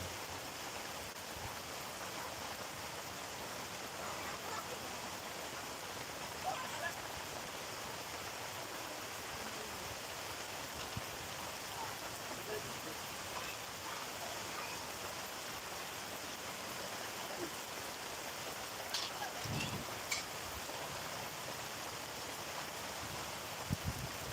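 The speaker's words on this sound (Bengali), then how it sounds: "আলহামদুলিল্লাহ বৃষ্টি হচ্ছে" Steady rain falling outdoors in Gazipur, a continuous even hiss with no pauses and a few faint knocks and clicks scattered through it.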